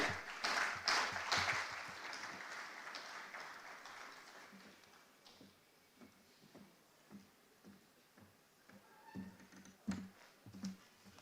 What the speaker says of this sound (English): please, with a thunderous applause, let's make welcome the chairman of the NDDC Governing Board, Mr. Chiedu Ebie